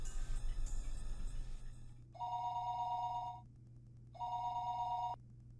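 Telephone ringing tone in a night-time call scene from the Higurashi When They Cry visual novel: two long, loud electronic rings separated by a pause, over a steady low hum, with no voices.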